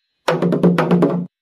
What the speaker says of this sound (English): It was a drum, right?